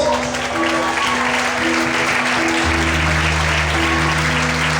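Congregation applauding during an evening church service after a sermon; loud, sustained clapping over steady sustained organ or keyboard tones that shift pitch midway.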